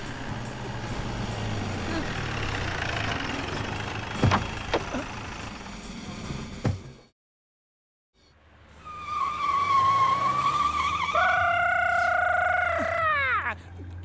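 In a comedy movie scene, a car engine roars and tires screech and skid amid urgent shouting, then a brief silence before revving returns with rising and falling squealing tones.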